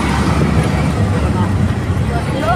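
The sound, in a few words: auto rickshaw ride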